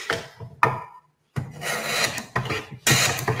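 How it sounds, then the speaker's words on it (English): A hand plane shears wood shavings on a wooden shooting board, giving close, loud rasping strokes in repeated bursts with a brief pause between passes. "you notice that sound is actually individual shavings coming off."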